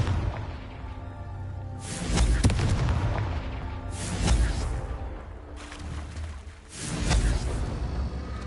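Confringo fire spell explosions in the Hogwarts Legacy video game, three booming blasts with whooshing tails spaced a couple of seconds apart, loud and close with little else around them.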